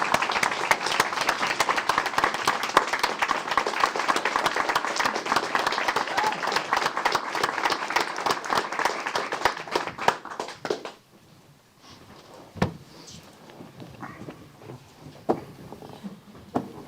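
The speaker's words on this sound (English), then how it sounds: "Let's give her a round of applause." A room full of people applauds at a Temple Terrace city council and community redevelopment meeting, brisk dense clapping sustained for about ten seconds before dropping off to scattered claps and quiet voices nearby.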